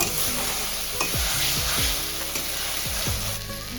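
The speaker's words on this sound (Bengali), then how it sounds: "আদা রসুন চার চামচ নিয়ে নিয়েছিলাম দিয়ে আবার একটু ভালো করে নাড়াচাড়া করে নেব" Ginger garlic paste stirred and fried in a pan for boal fish jhal, a loud continuous sizzle with repeated scraping spatula strokes against the metal, close and without speech.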